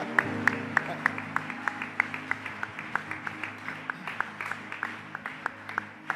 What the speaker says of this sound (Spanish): Si ese aplauso es para el Señor, déselo con todo el corazón.